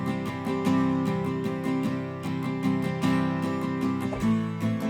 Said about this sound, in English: The strumming guitar that would be cool for this is Strummed Acoustic 2 by Native Instruments.